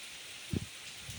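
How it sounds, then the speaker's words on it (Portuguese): Light, fine afternoon rain patters softly on the countryside, a faint steady hiss broken by one brief low thump near the middle. "E Deus nos presenteia com essa chuva fina."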